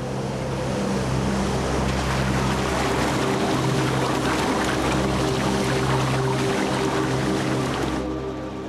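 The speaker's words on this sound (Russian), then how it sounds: "Ведь надвигается шторм, а это опасно." Sea waves and strong wind roll onto a beach as a storm approaches, a loud, continuous roar of surf and gusts with low rumbling throughout, fading slightly at the very end.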